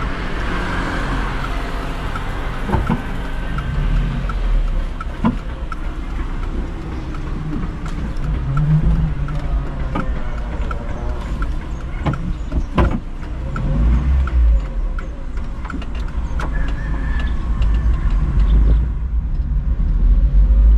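A car rolls past outdoors with a broad low rumble of engine and tyres, building and fading over about twenty seconds against steady background noise.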